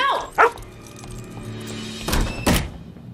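A dog barks in two or three short, sharp bursts at close range in an indoor setting amid commotion, with faint background sounds between the barks.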